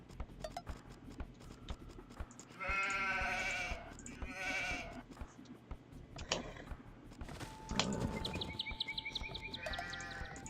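A few sheep bleat in short, wavering calls among clicks and mechanical game sounds, with a brief steady tone near the end.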